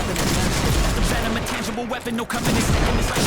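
Dense gunfire from the online shooter Point Blank in a sniper match, loud continuous shots and crackle with game music, and a voice talking over the action.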